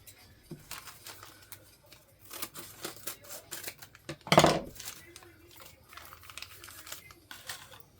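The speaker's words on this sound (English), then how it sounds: "I could take the scissors and trim that up a bit" Scattered sharp snips of scissors cutting, with light clicks and rustles between them and one louder clatter partway through.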